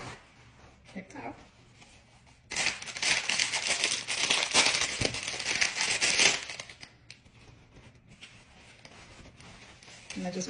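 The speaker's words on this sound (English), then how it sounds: "I'm gonna wrap it up in a paper towel." Close paper towel crinkling and rustling as food is wrapped swells loudly for a few seconds in the middle, framed by quieter handling noises at the start and end.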